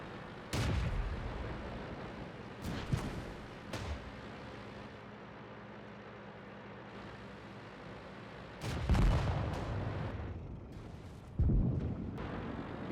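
Heavy artillery shells boom in a World of Tanks tank battle, several deep blasts spread across the stretch, some close and loud, others duller and farther off, with a low rumble between them.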